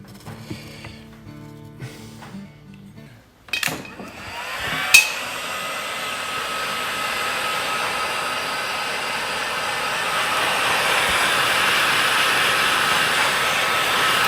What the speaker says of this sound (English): And we'll heat shrink it.